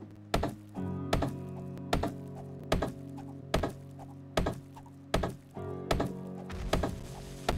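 Repeated heavy wooden thunks of an object being smashed apart in 7 Days to Die, about one blow per second, each sharp hit ringing briefly over a low steady hum.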